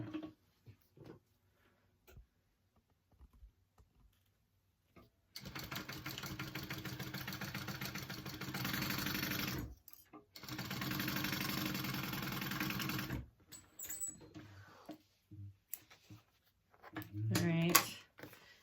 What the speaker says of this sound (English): we're gonna sew the bottom at a 1/2 inch seam allowance